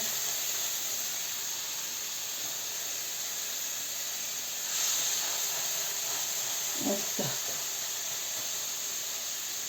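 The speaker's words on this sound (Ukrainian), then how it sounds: "хай смажиться" Steady hissing sizzle of meat sandwiches frying in a pan, continuous and fairly quiet, with a couple of faint clicks and scrapes near the end.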